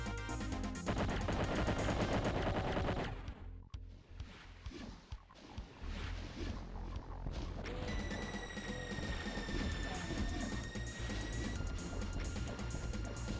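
Chain Gunner enemies firing in the Doom game, a dense, continuous rattle of rapid gunfire under loud game music and effects, with brief dips and sustained chaotic blasts throughout.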